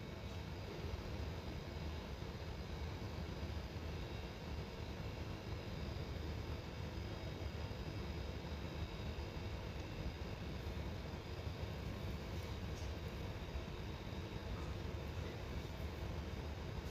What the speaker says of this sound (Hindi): पट्टी को मोड़ते हुए सिलाई लगानी है।